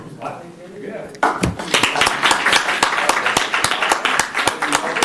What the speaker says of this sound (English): Clap if you think we should keep doing this